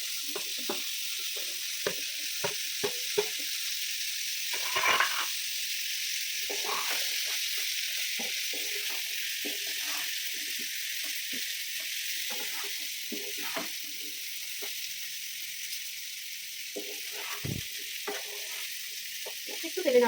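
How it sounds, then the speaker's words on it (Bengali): Deseeded amla (Indian gooseberries) fry in oil with chilli powder for a pickle, giving a constant close sizzle with frequent clicks and scrapes of a spoon stirring in the pan, without talking. "একটু তেলে নাড়াচাড়া করে নিয়ে"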